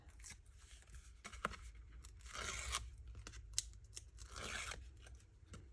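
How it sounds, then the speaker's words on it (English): Backing peels off foam tape on a handmade card, close and faint. It gives scratchy tearing and crinkling bursts with small crunches in between, and no one talks over it. "let's push those down so I can peel it easier"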